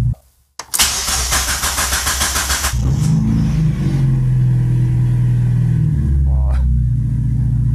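A Mazda MX-5 drift car with a rich-running engine cranks briefly, fires up with a loud burst, then settles into a rough, rumbling idle close by.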